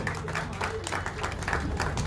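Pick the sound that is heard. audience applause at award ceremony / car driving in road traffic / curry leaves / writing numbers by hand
audience applause at award ceremony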